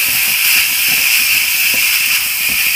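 Green peas frying in a pan of oil while fish curry is cooked, giving a steady, loud, close sizzling hiss that runs throughout with no talking.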